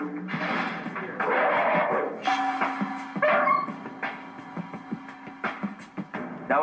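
A dog yips and barks in short bursts, with some whining in between, close by and fairly loud with a busy background.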